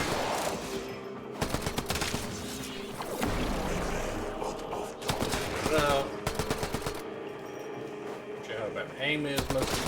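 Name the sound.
gunfire from a stealth weapon in the video game Warframe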